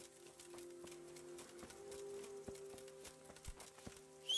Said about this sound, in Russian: Красивая лошадь.